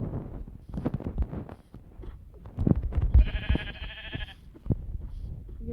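A sheep bleats in the Minecraft video game, one harmonic bleat lasting about a second midway through, amid game footsteps, thuds and other effects.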